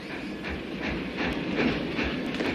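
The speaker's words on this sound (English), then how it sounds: "Here's the train." A train pulls into a station with a rhythmic clickety-clack of wheels and a faint hiss, heard at moderate loudness with no voices.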